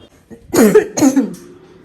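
A woman gives two close, loud coughs in quick succession, each a rough burst with a short throaty tail, followed by a quieter trailing breath.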